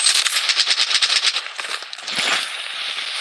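Rapid bursts of video game gunfire crackle in a dense rattling volley for about a second and a half, then settle into a rougher, sustained burst of shooting, loud and close with no talk over it.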